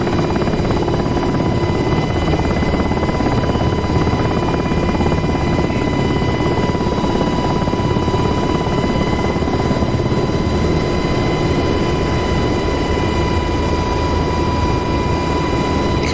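Helicopter rotor and turbine drone from the DCS World flight simulator on the Persian Gulf map, a steady, loud, continuous whine and thrum with no talking.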